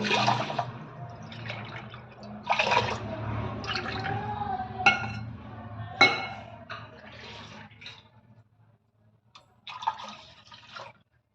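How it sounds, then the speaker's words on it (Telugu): Water poured onto rice in bursts, splashing and trickling, with pauses between pours and soft background noise, close by. "ఒక గ్లాస్కి వచ్చేసి మనం నాలుగు గ్లాసుల వాటర్ అనేది యాడ్ చేసుకోవాలి"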